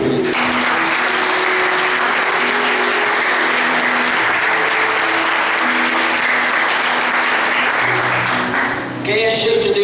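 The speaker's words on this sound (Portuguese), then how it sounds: "É uma aplauso ao Espírito Santo." Sustained applause from a church congregation fills the space, dense and steady for nearly ten seconds, with some voices mixed in and tapering near the end.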